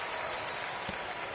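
A basketball arena crowd at a Lakers versus Bucks game claps in a steady, dense burst of applause, loud and continuous throughout.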